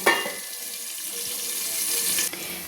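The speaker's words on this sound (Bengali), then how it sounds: "আমি আলুগুলো একটু লাল লাল করে ভেজে নেওয়ার জন্য চাপা দিয়ে দিলাম" Potatoes fry in a covered pan with a steady, close hiss and crackle that holds evenly throughout, with one brief clatter near the end.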